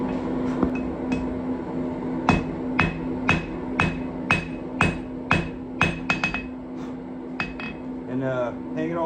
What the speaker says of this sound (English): hang it off the far side of the anvil, half on, half off blows, meaning I'm going to hit about here